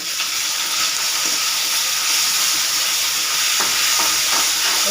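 Onions sautéing in a pan on a stovetop, a loud continuous sizzle with a few soft scrapes of stirring, no one talking.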